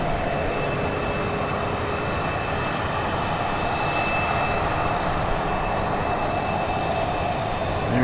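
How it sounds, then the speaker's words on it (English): A Southwest Airlines Boeing 737 Max 8 at Dallas Love Field, a continuous distant jet rumble with a faint high whine, steady and moderately loud for about eight seconds, no voices. "I hear another Southwest plane. Sounds like a Max 8 to me."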